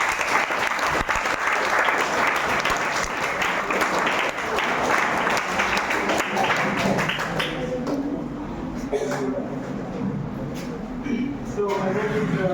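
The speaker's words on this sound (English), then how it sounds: "Let us give him a big round of applause" An audience at a lecture session gives a big round of applause, with dense clapping for several seconds that thins into scattered claps toward the end, while voices murmur underneath.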